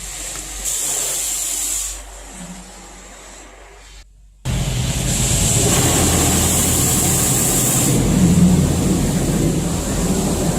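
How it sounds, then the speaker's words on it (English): Automatic brushless car wash running over a 2010 Subaru Impreza, heard from inside the car: a quieter stretch of hiss and rumble, a brief near-silent gap, then a loud, steady roar of water spray and blowers. "Ooh, car wash."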